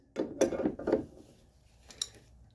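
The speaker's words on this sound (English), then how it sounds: "Get the two biggest wrenches you can find. Start cranking." Large wrenches crank on front suspension bolts of a car during reassembly, giving a few close metallic clicks and ratcheting scrapes in quick succession, then a quieter pause before another sharp click.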